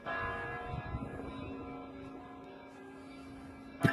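A church bell in a video game clock tower rings with a sustained metallic tone that slowly decays, fairly faint and alone, with another sharp clang near the end.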